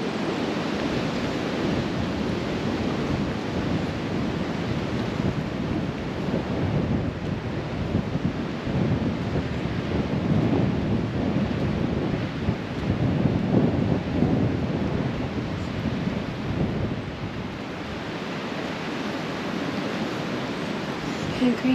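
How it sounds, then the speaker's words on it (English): Strong wind blowing outdoors across an open site, a steady loud roaring rush with gusty surges and buffeting, heard alone without talk. "Ooh, this wind."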